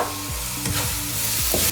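Prawns fry in hot oil in a pan while being stirred for a prawn biryani, giving a loud, close, constant sizzle broken by a few scraping stir strokes, with no voices.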